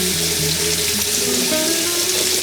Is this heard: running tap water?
yes